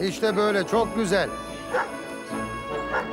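A dog gives a few short, high yips and whimpering barks close by while someone talks over it.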